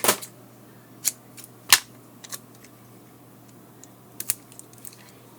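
A few crisp, faint snips of scissors cut tape down to size during a battery and touchscreen repair on a TomTom XXL GPS, spaced irregularly over quiet room tone.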